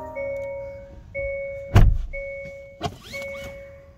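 A 2023 Hyundai Kona electric car with a 39 kWh battery starts up, giving a series of steady electronic chime tones broken by a couple of sharp clicks or thumps, with no voices.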